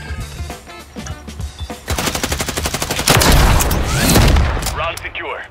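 Loud, rapid rifle fire from Call of Duty MW3, a sniping match, firing in quick repeated bursts with booming impacts near the end, as players talk over the shots.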